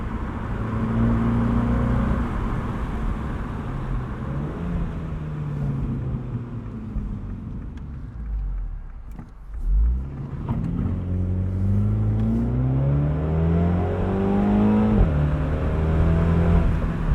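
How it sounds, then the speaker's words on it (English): A 2022 MINI Cooper John Cooper Works Convertible engine drones and revs continuously, pitch sweeping up and down through gear changes, with a faint turbo whistle riding over the exhaust rumble, heard with the top up. "I can hear more exhaust and turbo whistle with the top up than I can speaker sound"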